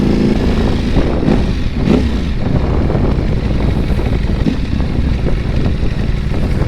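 A motorcycle doing a wheelie: a loud, continuous engine drone mixed with heavy wind rush, close to the microphone and without talk.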